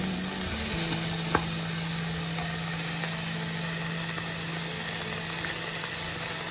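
Food sizzles steadily in a frying pan with garlic powder, a continuous close hiss with a faint low hum underneath and no talking.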